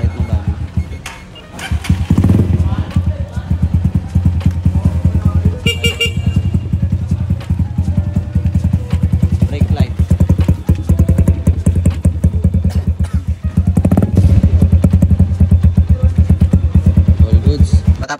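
Honda TMX 125 scrambler motorcycle running during a test before crating, a loud close single-cylinder putter with throttle blips and revving surges, with voices and a horn toot in the background.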